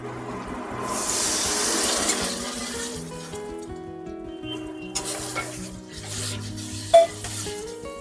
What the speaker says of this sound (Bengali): এবার আমি এর মধ্যে দিয়ে দেবো সামান্য জল